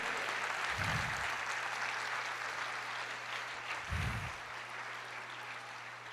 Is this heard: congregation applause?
yes